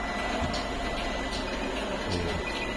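A Docode printer runs with a steady, close mechanical whir and faint periodic clicks while printing, with no voices over it.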